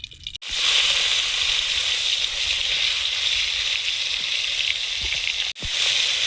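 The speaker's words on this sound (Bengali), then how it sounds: "কই মাছগুলো ভেজে নেব।" Koi fish sizzle and crackle steadily in hot oil, a loud continuous frying hiss that fills the whole stretch, dipping only briefly twice before resuming.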